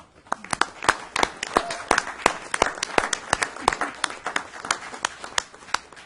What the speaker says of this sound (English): give him a nice round of applause for his appointment today